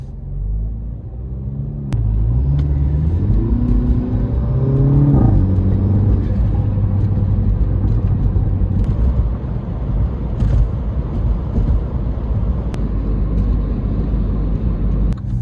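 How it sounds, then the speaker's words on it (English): A MINI Cooper engine droning steadily while driving, with a loud low rumble and a brief rev around the middle, continuous and close from the cabin. "So we're just driving in the Mini here"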